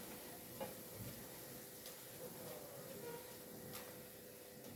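Crushed garlic is stirred in a pan, a quiet, low-level sizzle with soft scraping and a few faint clinks, heard close and alone.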